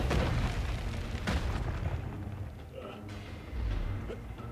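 A spinning fire attack in Mortal Kombat vs DC Universe, loud booming bursts and roaring whooshes in quick succession, with a player talking excitedly over the game sound.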